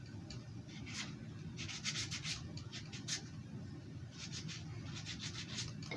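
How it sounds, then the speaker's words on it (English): Hand rubbing along the belly of a carved wooden cardinal, a series of short, dry scraping strokes close up, coming in quick bursts with brief pauses between them. "this is where we rub along the Cardinal's belly"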